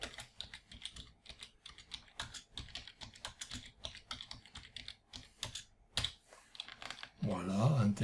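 Rapid typing on a computer keyboard, close and crisp key clicks in irregular bursts with short pauses, a few heavier keystrokes, fairly quiet overall.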